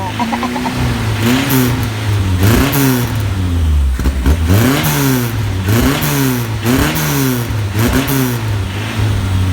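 A Tofaş car engine with a spun bearing revs repeatedly, pitch rising and falling in loud surges close by, with a voice briefly heard under the noise.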